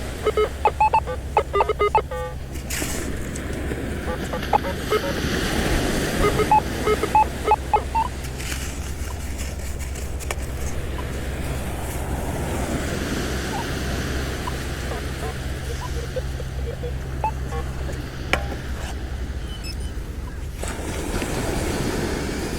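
Moderate surf rolling onto a beach on Florida's west coast, a continuous wash of breaking water with wind buffeting the microphone, intermittent clicks and a person speaking briefly near the start.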